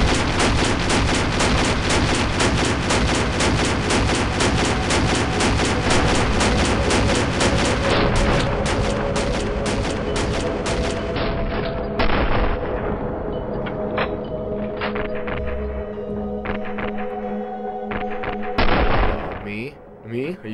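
Rapid bursts of movie gunfire from fake guns during a shootout scene, dense and loud for the first half, then thinning out under background music and effects.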